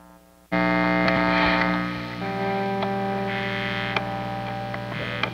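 A distorted electric guitar chord from a Stratocaster rings out suddenly and sustains with a buzzing, gritty tone, followed by a few more strummed accents as it decays.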